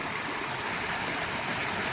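Knee-deep floodwater rushes across a farm road during heavy rain near Rajula village in Gujarat, giving a constant, dense wash of flowing water with no talk.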